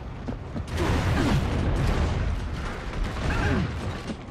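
Grenade blast in Gears of War Judgment team deathmatch, a loud rumbling explosion that swells after a few sharp pops and decays slowly amid mechanical rattles and scattered bursts.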